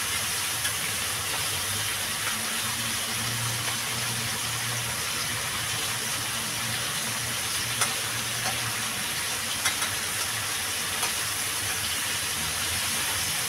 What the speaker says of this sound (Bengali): ভেজে নেবো ভালো করে কাঁকড়াগুলো।